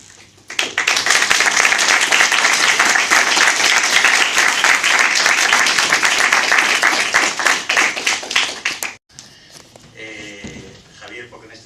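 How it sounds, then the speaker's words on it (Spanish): Loud, dense applause from an audience at a literary event with authors Javier Sierra, Eric Frattini and Luis Miguel Rocha, sustained for about eight seconds before cutting off abruptly, followed by quieter room sound and a voice beginning to speak. "hay que agradecérselo con un aplauso enorme"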